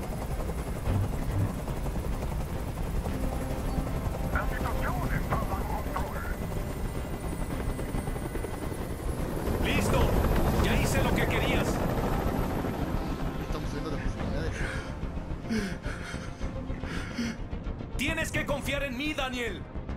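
A helicopter hovers in the video game Detroit: Become Human with a constant loud rotor drone filling the scene, while voices speak over it and a few sharp effects punctuate the end.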